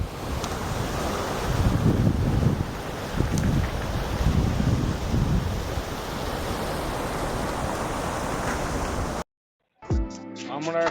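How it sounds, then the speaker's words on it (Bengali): Wei Sawdong Falls near Cherrapunji, Meghalaya, dropping in three tiers, makes a constant broadband rushing roar, with gusts of wind buffeting the microphone, before the sound cuts off abruptly near the end. "আমরা এখন যে ফলসটার কাছে রয়েছি এটার নাম ওয়েসেডং ফলস।"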